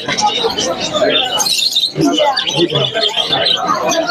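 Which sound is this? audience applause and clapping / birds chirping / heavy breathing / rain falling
birds chirping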